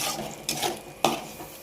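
Chili and cumin powder are stirred in a pan for a fish curry, with a low background sizzle. Two sharp utensil clinks against the pan stand out over soft scraping, and nobody speaks.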